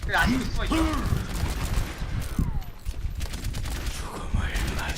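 Rapid spray gunfire in a competitive video game crackles in dense, continuous bursts, loud and up front, while excited commentators talk over the shooting.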